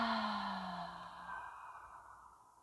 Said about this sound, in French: Expire profondément par la bouche.